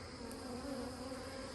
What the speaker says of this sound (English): there was lots of bees on there